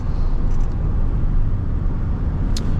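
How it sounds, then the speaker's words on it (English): A 2000 Chevy Silverado 1500's V8 engine accelerating rumbles loudly and steadily from inside the pickup, a constant low drone with a brief faint squeak near the end. "Has that deep V8 throttle body sound."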